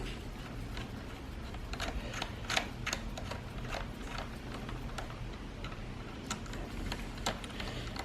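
Small bolts being tightened on a titanium rear brake pedal tip of a 2017 KTM 250 EXC dirt bike, giving a run of close, sharp ticking clicks over a steady low background hum.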